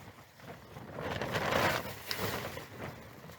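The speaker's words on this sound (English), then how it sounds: "there's the wind." Wind gusts rise and fall outdoors at a wilderness backpacking campsite at dusk, a rough rushing noise swelling in the middle, with faint rustling and patter of light rain beneath.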